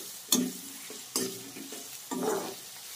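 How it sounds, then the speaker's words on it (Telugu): An egg fry cooks in a pan as a spoon stirs it, giving three short bursts of scraping and sizzling with quieter frying between them, close and fairly soft. "Egg fry. ఇంకాస్త వేగనిద్దాం."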